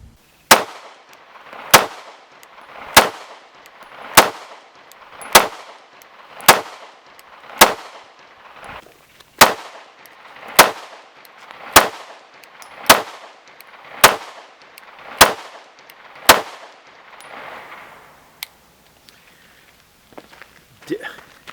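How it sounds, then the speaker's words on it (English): An S&W M&P Shield X Carry Comp pistol fires a long evenly spaced string of about sixteen loud, sharp shots, each ringing out briefly, then a few scattered quieter sounds. "I watched the sight when I was shooting the comp"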